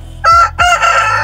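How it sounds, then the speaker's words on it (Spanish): A rooster crows twice in quick succession at mid-afternoon, loud and close, its second call drawn out longer than the first. "Mira el gallo, mira el gallo. El más gallo del corral."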